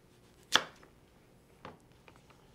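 A knife slices a raw chicken thigh in half with one sharp, close cut, then a softer second cut against the board about a second later, over a quiet background.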